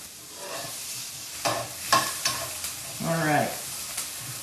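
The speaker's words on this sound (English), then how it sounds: "There's nothing like cooking onions." Onions fry and sizzle in a pan while a utensil stirs them, giving scraping and clacking strokes over a soft crackle, fairly close and with no talking.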